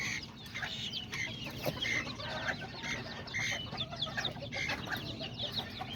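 Hens and roosters clucking on a backyard flock, a dense chorus of overlapping clucks and calls from several birds at close to mid distance, continuous and busy with no talk.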